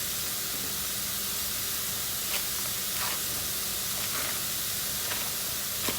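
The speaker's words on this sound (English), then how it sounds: "as you can hear it sizzling." Taco soup ingredients sizzling in a pan on a lowered flame, a steady close hiss with faint crackles throughout, no talking.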